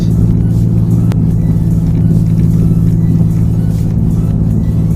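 A 1999 Porsche 911 Carrera's 300 bhp engine runs at a steady, loud, close rumble throughout, the low drone holding even with no clear revs or pauses.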